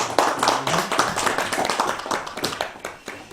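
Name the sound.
church congregation applauding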